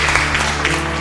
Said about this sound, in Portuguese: Aplausos para o nosso Deus